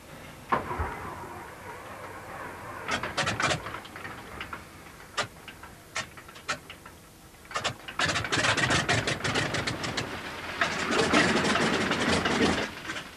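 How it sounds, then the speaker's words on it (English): The center engine of a Ford Trimotor airliner starts with scattered sharp ticks and pops, then catches and settles into a loud, dense, rapid idle chatter heard close by, without any talking. "Center engine primed. Ready to start."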